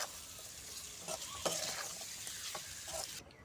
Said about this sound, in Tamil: முட்டை சேர்க்க போகிறோம் அப்படியே சேர்த்துக்கங்க சேர்த்து இதை அப்படியே பரட்டி விட்டுருங்க